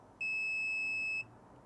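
A Sunlu filament connector sounds its confirmation beep when finished: a single steady electronic tone lasting about a second, clear and moderately loud over quiet room noise.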